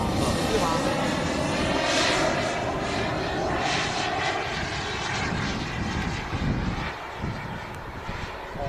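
A CARF Eurosport RC model airplane with a K-260G2 engine flies overhead, its loud droning engine note rising and fading slightly as it passes, while people talk nearby.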